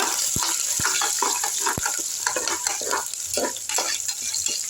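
Onion, garlic, curry leaves and green chillies sautéing in a pan give a loud, dense hiss and crackle, broken by a few sharp clinks of a utensil, with no voices.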